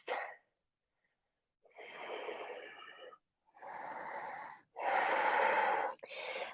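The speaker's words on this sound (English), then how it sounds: "3 more breaths." Deep yoga breaths at close range, a few long, forceful inhales and exhales separated by short pauses, each breath loud and airy, with no talking.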